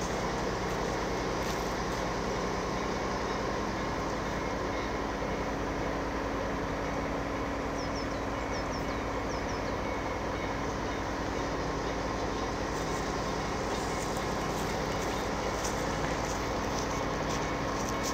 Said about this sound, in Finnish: Ja juna kulkee taas.